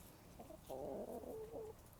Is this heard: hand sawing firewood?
no